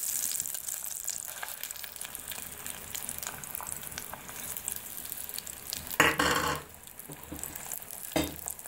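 Sliced potatoes fry in oil beneath rice for a Persian tahdig with green beans, giving a steady close sizzle and crackle that flares into a louder burst about two-thirds through and again near the end.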